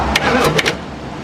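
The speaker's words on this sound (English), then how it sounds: "Let me see if I can jump it directly with a screwdriver." Starter motor on a car engine, jumped directly with a screwdriver, cranks in a short loud burst of a few rapid whirring pulses, close by with no talk over it.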